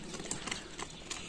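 A mare's hooves clip-clopping, a few quiet, evenly spaced knocks over faint background noise, fairly distant and soft.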